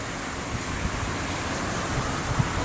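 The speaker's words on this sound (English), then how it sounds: "Still windy." Wind blowing outdoors in Halifax during Hurricane Earl, a steady loud broadband rush with gusts buffeting close, no voices.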